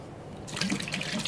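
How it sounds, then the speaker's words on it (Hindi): Water splashes into a pressure cooker holding chickpeas, starting abruptly after a short quiet moment and pouring close and steadily for about a second. "अब इसमें डाल दूंगी पानी।"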